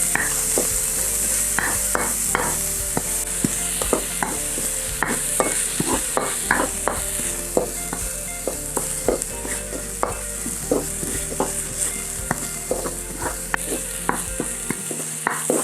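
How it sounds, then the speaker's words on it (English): Onions sauté for masoor dal in a pan, a steady sizzle broken by regular sharp scrapes and taps of a spoon stirring, close up and with no talking. "Saute this for a few minutes so it starts to soften up."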